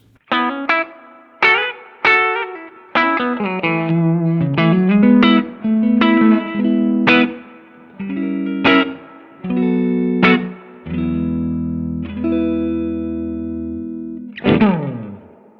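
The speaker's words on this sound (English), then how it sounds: "So long dwell, long decay with a very subtle mix." A clean electric guitar plays a melodic phrase through a Silktone amp's spring-style reverb set to long dwell, long decay and subtle mix, notes trailing off in a long, soft tail that sits subtly behind the playing.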